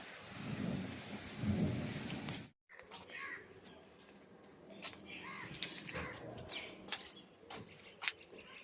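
Rain falls steadily at first, then after a brief break a softer rain continues with crows cawing repeatedly and scattered sharp sounds, in a rural morning setting of mango trees and plants; low thunder rumbles appear early.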